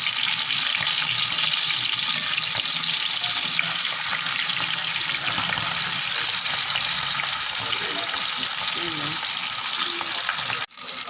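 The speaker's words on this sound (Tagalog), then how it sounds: "Gigisa lang tayo ng sibuyas." Onions sautéing in a hot pan give a loud, steady sizzle throughout, close and continuous, with stirring scrapes mixed in and a brief clunk near the end.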